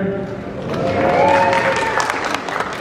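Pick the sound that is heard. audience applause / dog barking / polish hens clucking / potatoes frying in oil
audience applause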